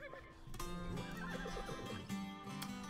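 A horse neighs loudly in a horse-breeding video game, a long whinny with a drawn-out, wavering call over background game music and ambience.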